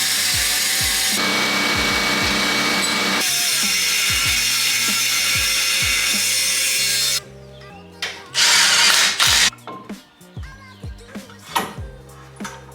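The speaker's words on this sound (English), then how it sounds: "I think I have to cut this heat shield out a little bit to get this to fit." A power tool cuts into the heat shield of an E28 car during an engine swap, a loud continuous grinding whine for about seven seconds, then broken into shorter bursts and intermittent cuts with quieter gaps.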